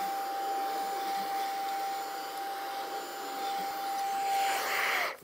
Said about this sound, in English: I'm gonna vacuum this up, all this stuff up that just poured out of this thing